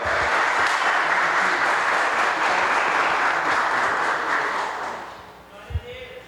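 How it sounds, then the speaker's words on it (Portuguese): A church congregation gives a loud, sustained round of applause to welcome the preacher, dense clapping that tapers off near the end, followed by a thump and a moment of near silence. "vamos receber esse servo do Senhor com uma forte salva de palmas"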